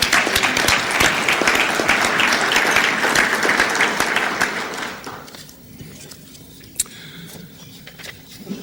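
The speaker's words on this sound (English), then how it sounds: "One more round of applause." Applause from a Rotary club luncheon audience fills the room loudly for about five seconds, then fades into scattered claps and quiet murmuring.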